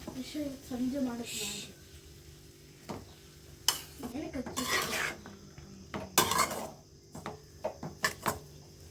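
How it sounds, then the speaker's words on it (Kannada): Cooked rice goes into a metal pan on a switched-off stove for methi and capsicum chitranna, giving a run of close, irregular scrapes and clatters of spoon against pan while someone talks over the noise. "ಇವಾಗ ಸ್ಟವ್ ಆಫ್ ಮಾಡ್ತಾಯಿದ್ದೀನಿ. ಅನ್ನ ನೋಡ್ಕೊಳ್ಳಿ, ಅನ್ನ ಹಾಕ್ತಾಯಿದ್ದೀನಿ."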